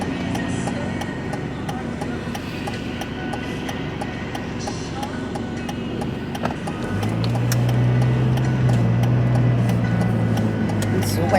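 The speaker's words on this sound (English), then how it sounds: "quite a bit of cars come down on me" Cars passing along a quiet road after rain, giving a continuous wet tyre hiss. Partway through, a louder low engine drone rises and holds to the end.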